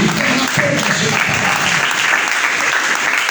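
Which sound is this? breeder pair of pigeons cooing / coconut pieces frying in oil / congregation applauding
congregation applauding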